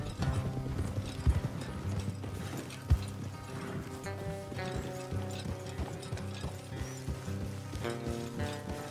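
Horse hooves clop in a steady trotting rhythm in the video game Red Dead Redemption 2, joined by creaking tack and low mechanical rumble, with no voices.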